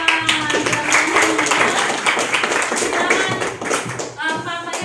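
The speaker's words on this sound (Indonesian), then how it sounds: "tepuk tangan untuk kelompok 2" A classroom group claps for group 2 after a lesson presentation, a run of fairly close, irregular hand claps and taps with some speech mixed in.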